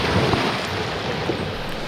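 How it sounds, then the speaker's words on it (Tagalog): Ocean waves wash against the shore near a beach resort, a steady, loud, broadband roar of surf with wind buffeting the microphone throughout, no voices. "Hampas ng alon, no?"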